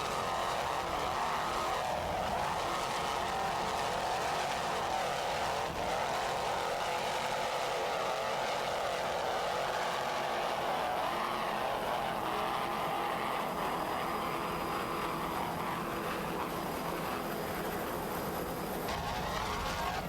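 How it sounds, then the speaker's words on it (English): Two 800-horsepower Mercury inboard engines on racing powerboats at an offshore grand prix roar continuously at high revs, a loud, steady, throaty drone with shifting pitch as the boats run past. "Let's listen to those two 800 horsepower Mercury inboards."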